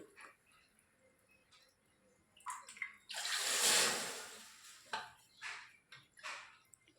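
Water splashes and pours into a pot for semolina upma for a moment, framed by scattered clinks and drips of a vessel, fairly quiet overall.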